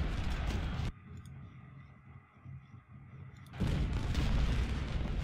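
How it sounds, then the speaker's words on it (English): Artillery fire in Ultimate General: Civil War at the Battle of Antietam, low distant booms and rumbling blasts with a quieter lull in the middle, moderately faint overall. "There's their artillery."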